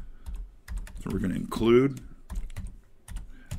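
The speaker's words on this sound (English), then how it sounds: "now I can start typing in code" Keystrokes on a computer keyboard while C code is entered on a PiDP-11 replica of a PDP-11/70 running 2.11BSD, with soft clicks in loose bursts under someone talking at close range.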